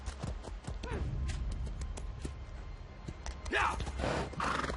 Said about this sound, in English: So you'll just take your horse, come up here